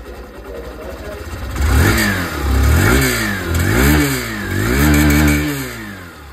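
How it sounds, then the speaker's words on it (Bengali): A Hero Super Splendor 125 Xtec motorcycle's 125cc engine idles, then is revved repeatedly, climbing and falling in three or four loud, close throttle blips before settling back toward idle. "এবার আমি আপনাকে সুপার স্প্লেন্ডার আওয়াজটা শুনিয়ে দিই এক্সটেক মডেলের"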